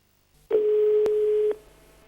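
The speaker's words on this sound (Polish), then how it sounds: "Pora na telefon oczywiście." A telephone line tone on a radio phone-in prize draw, a single steady beep lasting about one second, clear and prominent, with a short click in the middle and line hiss before and after.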